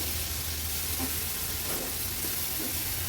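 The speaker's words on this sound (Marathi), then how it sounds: "2 छोट्या साईजचे टोमॅटो होते ते मी बारीक चिरून घेतले आहेत। व्यवस्थित मिक्स करून घेते।" Chopped tomatoes stirred into a masala frying in oil for an Agri-Koli style chicken masala, giving a steady close sizzle with a few soft scraping stirs, no talking.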